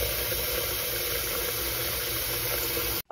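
Tap water runs steadily and fairly loud into a sink while chickens are being washed with lemon, a continuous hiss that cuts off abruptly near the end.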